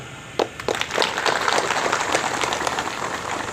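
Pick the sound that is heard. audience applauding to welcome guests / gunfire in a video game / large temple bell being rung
audience applauding to welcome guests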